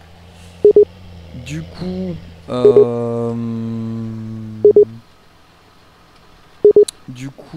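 Repeated telephone tones from a farming game session: short doubled beeps recur at steady intervals, with a long sustained tone in the middle, heard under casual French talk between players.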